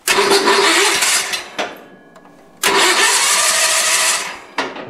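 A Sears Suburban SS16 snowblower engine, tried with the throttle fully off and full choke, cranks and catches in two loud bursts separated by a short lull, with no talk.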